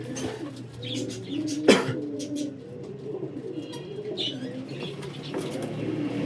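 Desi golden pigeons coo in a steady, overlapping rhythm close by, with a brief sharp flutter or knock near the middle and faint chirps above.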